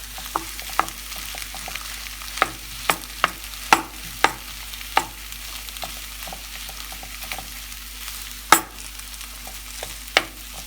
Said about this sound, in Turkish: Patatesimizi kavuralım. Patatesimizi kavurduk.